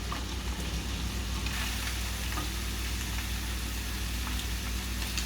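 Beef fajitas with bell pepper, onion and chile sizzle in a hot pan, a steady loud hiss and crackle that carries on without break under a low rumble, with no talking.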